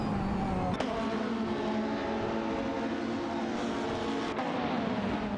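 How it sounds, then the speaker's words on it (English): Simulated race cars, a Nissan Primera P11 and a Volvo 850, sustain a steady, loud engine drone on the track, with layered tonal whine and a couple of sharp clicks, no voices. "It's a showdown between the Nissan Primera P11 and the Volvo 850 on the track."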